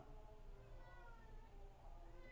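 A cat meows in the background while someone talks indoors during a religious study session.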